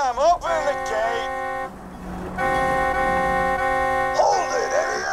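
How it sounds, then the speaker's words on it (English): A vehicle horn honks in the Borderlands 2 video game, several sustained buzzy blasts with a rising-and-falling tone at the start and end, loud and near over a constant engine-like background hum. "Just drive up and honk your horn"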